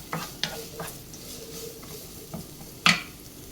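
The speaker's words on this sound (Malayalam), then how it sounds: "നമുക്ക് ചെറുതായിട്ടൊന്ന് വഴറ്റിയെടുക്കാം" Capsicum strips and tomato sautéing in a pan, with a soft sizzle under light stirring and a few sharp clinks of a spatula against the pan, the loudest near the end.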